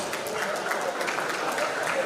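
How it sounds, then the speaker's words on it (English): An audience at a memorial celebration-of-life gathering applauds in steady, dense clapping from many hands that fills the room continuously. "Can we give a round of applause, please?"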